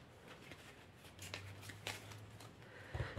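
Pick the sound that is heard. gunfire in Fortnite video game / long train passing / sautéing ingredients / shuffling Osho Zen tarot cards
shuffling Osho Zen tarot cards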